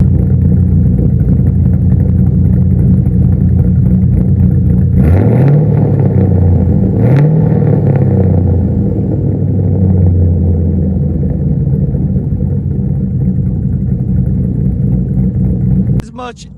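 A Mercury Marauder 4.6 V8 fitted with a manual swap, PI head swap and cams, idling with a lumpy rumble before two sharp revs that rise and fall, then settling back to a steady idle, close and loud.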